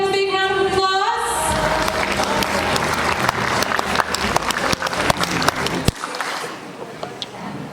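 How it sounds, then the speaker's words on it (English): Audience at the Mrs Face of Shillong 2024 pageant breaks into applause for the contestants, rising out of fading music into dense clapping with sharp individual claps, loud and close, then tapering off. "Can you please give them a big round of applause?"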